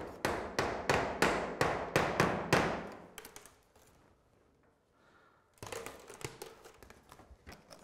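Several sharp hammer strikes drive a large-headed clout nail into a roof batten while fitting a dry vented ridge, about eight evenly spaced blows up close, then a quiet pause before further clattering and knocking handling noise.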